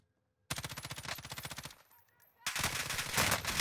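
Bursts of rapid automatic gunfire from a buffed M13 rifle in a Call of Duty match on Rebirth Island: a sustained rattling volley, a short lull, then another loud, dense burst.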